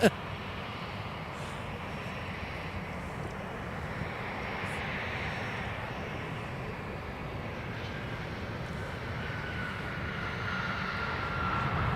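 Jet airplane near the runways at Minneapolis–St. Paul Airport, a steady broadband engine roar heard from a distance that slowly grows louder across the span, with faint background chatter.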